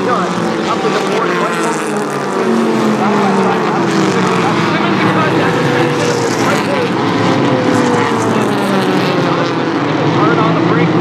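Mini stock race cars roar around Flamboro Speedway, a loud continuous close engine drone with shifting pitch as cars pass, under a commentator's steady talk.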